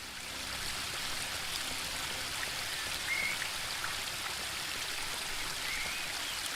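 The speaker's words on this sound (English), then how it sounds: "The spring brook emerges up there." A small spring brook in the adventure game The Book of Unwritten Tales 2 trickles and splashes in a steady, even wash of running water, soft and unbroken throughout with no talking.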